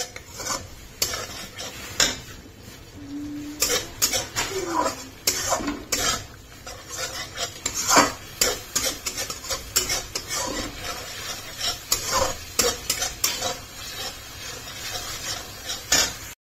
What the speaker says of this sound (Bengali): আর এখানে চলছে মাছের ঝোলের মশলা কষানো।